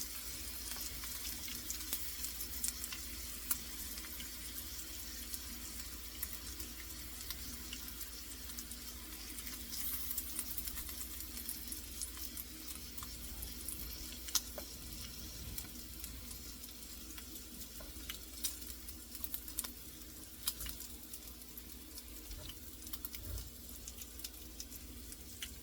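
Bacon frying in a pan gives off a steady, continuous sizzle that holds at an even level, with faint water-like hiss and no voices.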